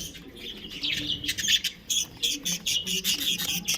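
Caged lovebirds squawk and chatter in a rapid, overlapping burst of harsh, shrill calls during a scuffle, close and loud with no talking.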